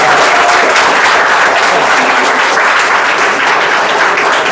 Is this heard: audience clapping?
yes